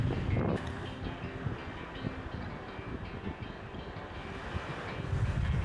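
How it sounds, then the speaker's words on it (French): Steady wind buffeting the microphone on a beach at Djerba, Tunisia, a broad continuous roar that surges stronger at the start and near the end, with no talk. "il y a du vent, il y a du vent, il y a du vent"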